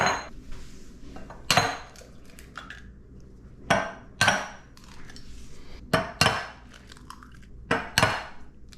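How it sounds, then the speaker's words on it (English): Eggs being cracked against a hard edge while making scrambled eggs, heard as a series of sharp, close taps and cracks at an irregular pace, with brief clinks of dishes between them and no talking. "We're gonna crack some eggs."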